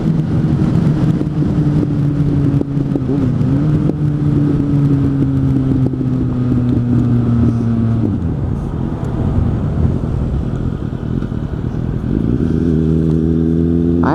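A Suzuki GSF 600 N motorcycle engine holds a loud, steady rev, its pitch sliding slowly down, then drops away and climbs again in short rising bursts near the end, heard up close with no talking.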